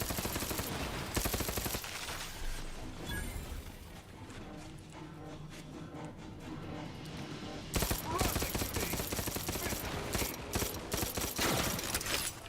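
Heavy gunfire from the Outer Worlds 2 video game: rapid bursts of automatic shots and rattling volleys fill the scene almost throughout, briefly thinning in the middle before dense firing resumes.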